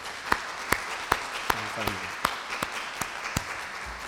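A church congregation claps to welcome the pastor and his wife, giving sparse, spaced individual claps rather than a full ovation, with a brief spoken thank-you over it.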